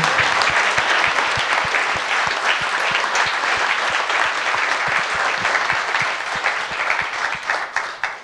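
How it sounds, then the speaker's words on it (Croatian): Sustained audience applause fills a hall after a film screening, dense and steady for several seconds before tapering slightly at the end, with no voices over it. "prvo da se zahvalim svima na ovom predivnom e, pljesku"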